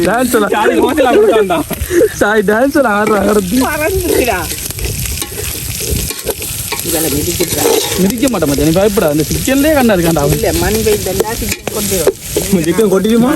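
Food sizzling and frying in a hot pan in a village kitchen in Batticaloa, continuous loud crackle throughout while people talk over it.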